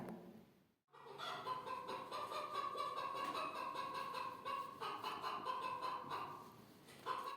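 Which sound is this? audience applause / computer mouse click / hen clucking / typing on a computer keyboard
hen clucking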